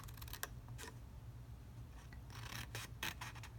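Scissors snip and crunch through the corner of a cardboard box, a few sharp close cuts and rustles over a low steady hum.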